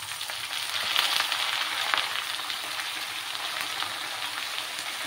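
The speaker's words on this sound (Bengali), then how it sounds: "আদার একটু কাঁচা গন্ধটা না যাওয়া অবধি একটু ফ্রাই করে নিতে হবে।" Vegetables and ginger fry in a pan with a steady, close, even sizzle that hisses on without pause and with no talking.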